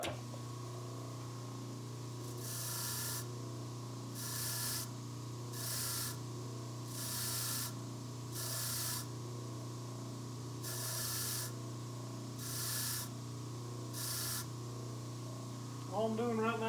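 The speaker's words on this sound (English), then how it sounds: "All I'm doing right now is cleaning it up real gentle like on the wire wheel." Bench wire wheel gently cleaning a carburetor part, a steady motor hum under repeated bursts of bright hissing abrasion as the part is pressed to the wheel, with a short clatter at the end.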